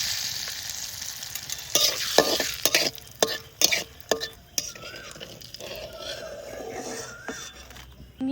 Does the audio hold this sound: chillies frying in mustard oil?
yes